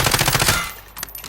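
An automatic rifle rattles in a rapid burst in Call of Duty: Modern Warfare, about eight quick shots close and loud, then a short pause and a couple of fainter trailing pops.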